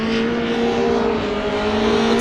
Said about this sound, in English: Matt Haugen coming in. That R34 Haugen Racing vehicle